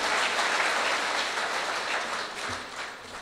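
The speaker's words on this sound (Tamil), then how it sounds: "எங்கே உங்கள் கைத்தட்டலை அவரது காதுக்கு அனுப்புங்கள்." A poetry recital audience applauds a literary award honouree, a dense, steady wash of many hands clapping at once that holds loud and continuous throughout, easing slightly toward the end with no voices over it.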